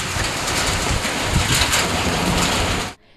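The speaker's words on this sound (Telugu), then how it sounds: "ఈదురుగాలులతో కూడిన భారీ వర్షం విరుచుకుపడింది." Heavy rain driven by gusty winds pours down in a loud, dense, continuous roar during a storm in Andhra Pradesh, then stops abruptly just before the end.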